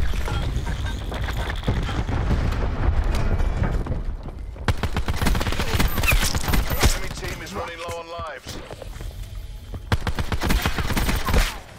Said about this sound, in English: Incoming cluster grenade.